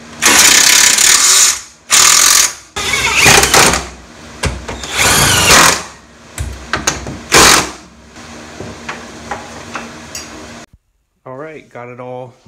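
Ratchet tightening the rear trailing arm bushing bolts on a 1990 Honda Civic EF hatchback, giving loud bursts of clicking separated by pauses, then fainter short clicks toward the end.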